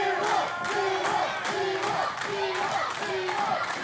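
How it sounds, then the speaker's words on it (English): An arena crowd at a wrestling show chants in a steady, rhythmic pattern of repeated rising calls, loud and fairly close, with a commentator's voice faintly underneath. "Cal's pals in the Davis Arena cheering him on."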